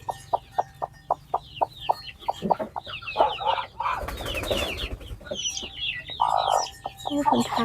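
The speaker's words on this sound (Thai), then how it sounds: "ไก่ก็รอกินอยู่นะพ่อพี่น้อง" Chickens cluck repeatedly at a rural Lao farm while waiting to be fed, a run of short evenly spaced calls at close range, then busier overlapping clucks and flapping with some rustling.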